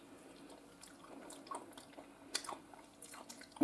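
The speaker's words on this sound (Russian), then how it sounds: "Очень твердая шкурка, аж хрустит." Close, quiet bites and chewing into a firm, crunchy-skinned Banana Legs tomato taken from cellar storage in November, a few soft crunches and moist mouth sounds scattered through a hushed room.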